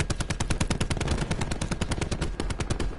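Rapid, evenly spaced gunfire bursts from a sniper rifle in a PS4 shooter, loud and close, with several dozen sharp reports packed into about three seconds and no talking.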